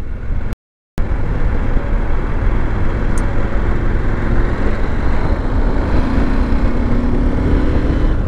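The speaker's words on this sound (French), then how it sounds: "C'est un gros bicylindre en ligne, bon voilà, c'est pas le bruit le plus charmant que je connaisse." A Husqvarna Norden 901 parallel-twin motorcycle engine drones loud and steady at close range, its broad rough rumble continuous apart from a brief dropout near the start, with no talk.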